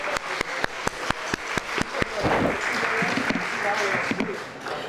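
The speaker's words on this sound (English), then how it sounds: "So if we can give a round of applause for all of these individuals" A small crowd at a campus grand opening claps, first in a few distinct slow claps that swell into brief general applause, while voices murmur and talk underneath.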